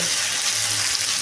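Spices fry hard in hot oil with onions, salt, turmeric, chili, cumin, coriander powder and sugar, giving a loud, close, continuous sizzle with faint stirring and no voices.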